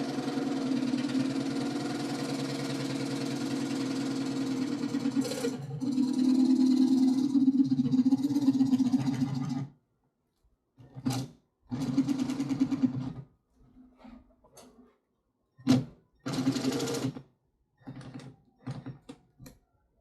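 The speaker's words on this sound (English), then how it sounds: "I strongly recommend a cordless jigsaw. Best thing ever for doing this." A cordless jigsaw cuts into a saddlebag on a 2022 Road Glide motorcycle during a cut-in kit install, first running continuously, then in several short bursts separated by silence.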